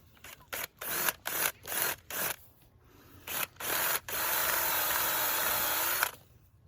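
A hand power drill widening a hole runs in a series of short on-off bursts, then holds one longer continuous whir before stopping, close and fairly loud.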